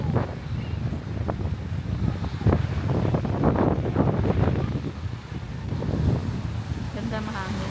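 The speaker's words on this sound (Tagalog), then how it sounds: "Ganda mahangin." Strong seaside wind at Bolinao, Pangasinan roars across the microphone in a dense, continuous rumble, with waves faintly beneath and people speaking over it.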